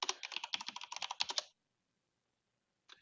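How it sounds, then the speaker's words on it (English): A burst of rapid keystrokes on a computer keyboard as a password is entered, about a dozen close crisp clicks over a second and a half, then silence and one more brief tap. "And I'll type in a password."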